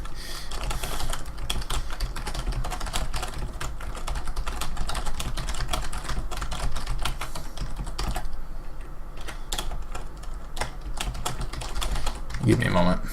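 Typing on a computer keyboard clatters in quick, irregular bursts of close key taps, continuing steadily with brief pauses and a few heavier strokes near the end.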